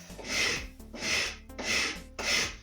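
A gray, weathered wood surface is scraped by hand during restoration: four close, rasping strokes in a steady rhythm, each rising and fading, with no talking.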